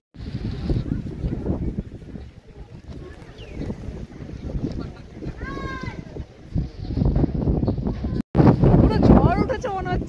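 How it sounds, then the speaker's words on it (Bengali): Strong storm wind roars in gusts across the microphone on a rainy, foggy day in Darjeeling, loud and continuous, with brief whistling tones and a voice talking over it at times. "পুরো ঝড় উঠেছে মনে হচ্ছে।"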